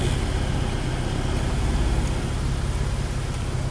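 An Acura MDX engine running during a scan tool test gives a steady, fairly loud low mechanical hum with no clear rise in pitch. It continues unbroken throughout, with no talking.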